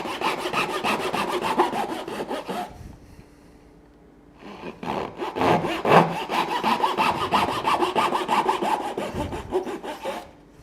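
Japanese hand saw cutting wood held high in a vise, rapid rhythmic rasping strokes close by, with a short pause midway before the sawing resumes briskly.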